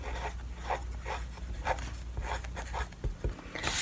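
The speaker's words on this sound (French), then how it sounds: "Après ça, on va écrire son âge." A Sharpie marker writes on a paper sign, giving soft repeated rubbing and squeaking strokes in a steady rhythm, close up over a low background hum.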